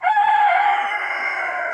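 A Brahma rooster gives a single sustained crow, close and loud, with a strong held tone that fades slightly toward the end.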